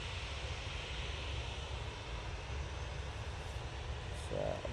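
A KLM Boeing 737-800 airliner departing Manchester Airport, its engines a steady, broad roar that holds at constant loudness throughout with no talk over it.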